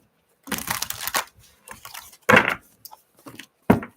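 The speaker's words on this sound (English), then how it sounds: "Let's do one more shuffle." Tarot cards being shuffled by hand in bursts of crisp riffling and rustling, close and fairly loud, separated by short quiet gaps.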